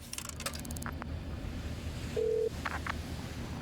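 A few short telephone dialing tones in the Shadows of Doubt detective game, with a single steady beep near the end and faint clicks and key taps around it over a low ambient hum, no talk.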